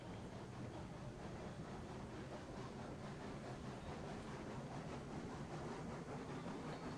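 A train with attached cars rolls along in the video game Railroads Online, a quiet, continuous rumble with faint rhythmic rail clatter throughout and no talking.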